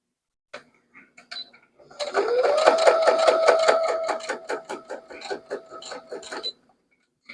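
A sewing machine stitches a quilted fabric Christmas potholder, running in a fast, steady mechanical rattle with a humming motor whine for several seconds before slowing into a few separate clicks.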